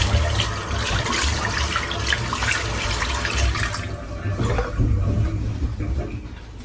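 Cold water running from a tap during rinsing after a head shave, a steady loud splashing rush that shifts in tone partway through as hands move under the stream.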